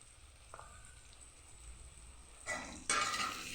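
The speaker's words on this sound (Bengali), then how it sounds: "দিয়ে আলু বেগুনটাকে এটার সাথে ভেজে নেব।" Potato and eggplant fry with onion in a pan: a faint low hiss at first, then a louder burst of sizzling and stirring scrapes near the end, close by.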